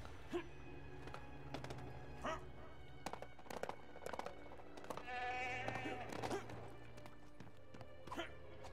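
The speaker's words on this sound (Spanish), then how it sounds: "Una oveja." Sheep in the video game LEGO The Hobbit bleat several times in short bursts, with a longer bleat midway, amid clunky game sound effects and a person talking.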